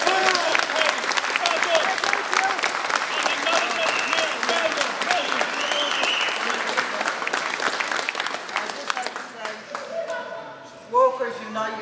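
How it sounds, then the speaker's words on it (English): A crowd at a workers' protest outside South Dublin County Council breaks into sustained applause, dense clapping filling the air before thinning out near the end. "I would like you to give these people a round of applause"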